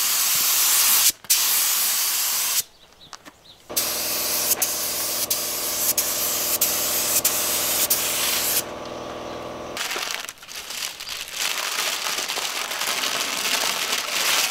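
A paint spray gun coats a skoolie bus with loud, close, continuous hissing bursts, broken by brief pauses between passes, with no talk.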